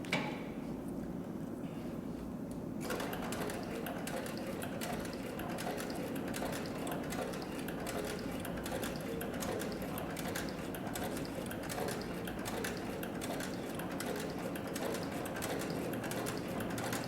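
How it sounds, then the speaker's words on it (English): A Cowboy CB3200 leather sewing machine stitches through three layers of light tooling leather, a steady rapid mechanical chatter that starts after a brief quiet moment and runs continuously. "So the Cowboy CB3200 can also sew lighter weight materials, and so we're going to demonstrate that on 3 layers of approximately 3 ounce tooling leather"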